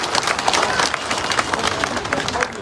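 An audience claps steadily at an Indian election rally, a dense continuous wash of applause that holds loud for a few seconds.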